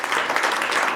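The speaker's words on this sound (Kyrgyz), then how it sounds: "Дагы бир каттык кол чаап койгула." Steady crowd clapping fills a seminar hall in Bishkek, a dense, even burst of many hands lasting only a moment at moderate loudness.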